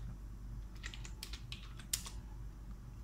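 Keystrokes on a computer keyboard while a script is written, a quiet run of light clicks in short bursts over a steady low hum, with no voices.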